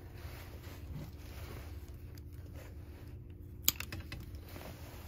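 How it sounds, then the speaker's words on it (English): Cutters snip a chainsaw fuel line on a Husqvarna 51/55 with one sharp, crisp click near the middle of a quiet workshop background, with a few faint handling taps around it. "I'm gonna go ahead and cut my fuel line right here"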